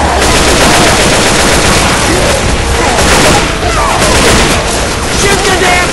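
Heavy gunfire in Left 4 Dead 2 during a fight with a tank: loud, nonstop bursts of shooting and booms that fill the whole stretch, with voices mixed in.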